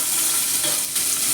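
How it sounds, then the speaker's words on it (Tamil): Shallots sizzle loudly in hot oil in a pan while being stirred for kadamba sambar, a steady close-up frying hiss with scraping stir sounds and no talking. "சின்ன வெங்காயம் போட்டு நல்லா கலரிக்கணும்."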